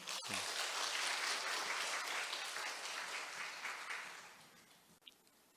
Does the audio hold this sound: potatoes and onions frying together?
no